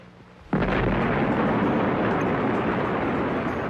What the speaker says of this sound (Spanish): la explosión de una bomba en el desierto de Nevada